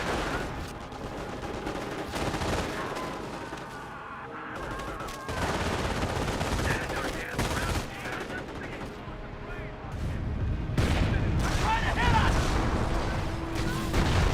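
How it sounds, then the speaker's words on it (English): A Calliope rocket counter barrage rains down in Company of Heroes 1, a long stretch of loud, rolling explosions and crackling fire that swells and thickens toward the end. "We've got also a Calliope counter barrage."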